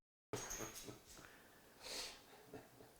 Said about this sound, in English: Look at his dog. He's just going after those boxes.